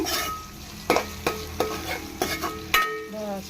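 Ground masala with turmeric and salt fries in a pan for brinjal vangibath rice, a steady sizzle broken by about five sharp stirring scrapes, close and fairly loud, with no voices.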